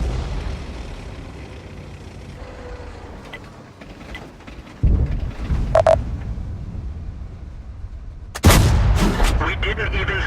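Heavy cannon shots from tanks in a tank battle video game, a Nohan T-43 among them, booming in bursts: one muffled blast near the middle and a louder, sharper shot toward the end over low rumbling engine noise.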